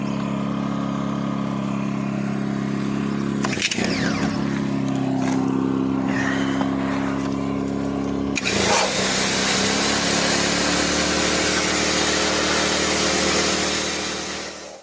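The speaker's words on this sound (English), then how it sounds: "now I'm going to head underneath in my jet washer to start" A jet washer runs steadily under a Freelander 2, spraying the underside of the car with a loud, continuous motor drone, broken by short changes where the spray hits different surfaces.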